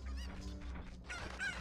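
A cucco chicken in the video game Ocarina of Time clucks and squawks in a short, loud burst with no talk over it.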